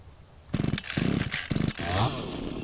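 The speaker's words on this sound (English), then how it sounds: "Okay, let's get the chainsaw." Chainsaw in the Mist Survival video game, sharp buzzing engine bursts that rev up and cut off several times in a pulsing rhythm, close and loud, ending in a rougher sustained run.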